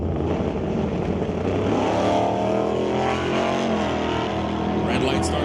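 Pro drag race cars, the Horizon Paint Chevy II and the Lorco Auto Parts Chevelle, roar loudly and steadily at the line, with an announcer talking over the engine noise.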